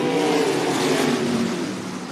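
Race cars at Cottage Grove Speedway accelerating hard away from the green flag, a loud, dense, sustained engine roar with no break, easing off slightly at the end.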